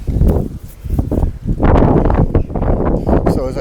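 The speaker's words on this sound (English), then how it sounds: "It's very, very windy." Strong wind buffets the microphone in heavy, irregular gusts, roaring and rumbling loudly throughout.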